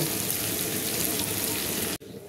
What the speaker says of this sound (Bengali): দেখুন এই চিংড়ি মাছ আর পেঁয়াজকে ভালো করে ভাজা হয়ে গেছে।